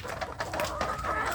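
Free-range village chickens cluck in a steady, busy chorus, with several birds close by and overlapping calls throughout, and no voices.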